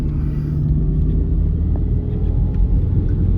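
A 1987 Plymouth Colt Vista with four-wheel drive and a manual gearbox rolls along in all-wheel drive, a loud, steady low engine and drivetrain rumble heard from inside the car.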